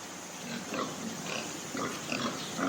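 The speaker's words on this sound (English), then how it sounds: "We're cleaning the pigs out" Pigs grunt and oink in a shed while being cleaned out, a cluster of close, rough snorts and squeals repeating irregularly over a steady noisy background.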